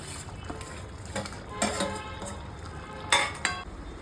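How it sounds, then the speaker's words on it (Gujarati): Paneer pieces tipped into frying masala and stirred, soft scraping and clattering stirring strokes with occasional louder bursts over a quiet sizzle, close, no talk. "હવે નાખી દઈશું પનીરના ટુકડા"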